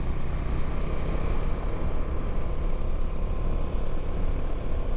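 A motorcycle ride through Navi Mumbai comes across as a loud, steady roar of engine and rushing wind noise that stays unbroken throughout, with no speech.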